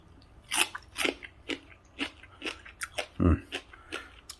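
Close, crisp crunching as someone chews a freshly picked white cucumber, about a dozen rhythmic bites and chews in quick succession, moderately quiet.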